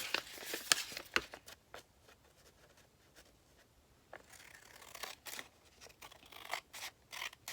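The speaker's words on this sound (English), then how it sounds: "And just cut those little pieces off like that." Scissors snipping small pieces of fabric, a series of quick crisp cuts close by, clustered at the start and again later, with quiet pauses between.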